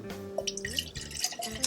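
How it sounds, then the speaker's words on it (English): Water pours into a Jetboil pot at a motorcycle campsite, a short burst of splashing and trickling drips close by, quiet and brief. "we're going to pour this into the Jetboil"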